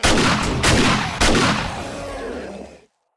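A pump-action shotgun fires in the survival game 7 Days To Die: three loud, sharp blasts in quick succession, each with a booming decay, then the sound cuts to silence.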